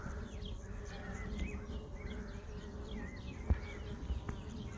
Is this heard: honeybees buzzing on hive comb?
yes